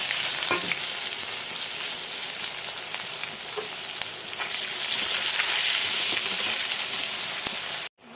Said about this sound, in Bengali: ফোড়নটা হয়ে গেছে, আমি পেঁয়াজটাকে দিয়ে দেবো।